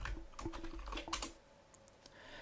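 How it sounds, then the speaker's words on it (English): Rapid, quiet typing on a computer keyboard while text is entered into a Word document, with a quick burst of close keystrokes that tapers off into a few scattered taps. "Let me just type some sample text into the document."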